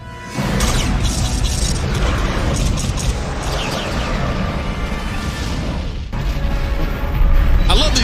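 Weapons fire and explosions roar through a space battle in the science-fiction series Babylon 5, with dense, rumbling booms and mechanical bursts running continuously under spoken radio-style dialogue.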